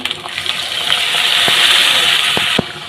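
A little water is poured into salt, coriander powder and ground spices frying in a pan, a loud close hissing gush that runs steadily for over two seconds with a few scattered clicks, then cuts off.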